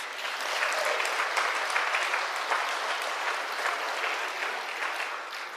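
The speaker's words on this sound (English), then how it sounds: "So let's give them a round of applause." Wedding guests applaud the couple at a reception, a steady, dense clapping from a full room that holds evenly throughout without any voices above it.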